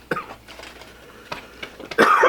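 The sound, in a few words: coughing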